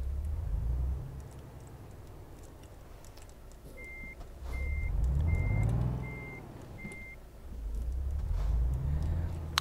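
In the Euro Truck Simulator 2 driving game, a truck reverses with five evenly spaced reversing beeps over a low rumbling engine that surges and drops.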